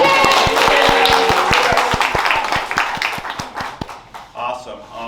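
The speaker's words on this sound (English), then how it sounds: "let's give her a round of applause again" A small group claps in a room, distinct individual claps rattling together before thinning out, with people talking over and after the applause.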